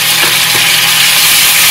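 Ginger garlic paste hits two ladles of hot oil for dry mutton, giving a loud, steady, close sizzling hiss with a couple of faint taps near the start and no talk.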